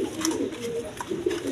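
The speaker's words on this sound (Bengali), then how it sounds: "এইখানে এক পেয়ার গররা কবুতর আছে দেখেন, ওই পিছনে একটা নর আর সামনে একটা মাদি" A pair of Gorra pigeons, one male and one female, coo softly in soft low repeated calls, faint against a busy background.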